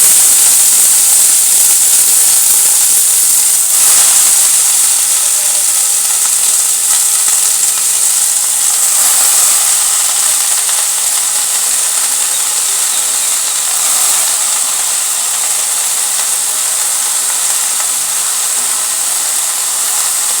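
Nate shak (amaranth greens) sizzling steadily in a pan with fried garlic, a continuous bright hiss filling the whole stretch at close range, with no talk.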